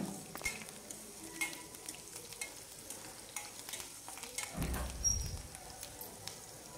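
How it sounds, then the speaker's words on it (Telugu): Curry leaves and onions fry quietly in oil, a soft crackling sizzle with occasional stirring scrapes and a short louder burst near the end, no one speaking. "చూడండి, కరివేపాకు కూడా కొంచెం ఫ్రై అవ్వాలి."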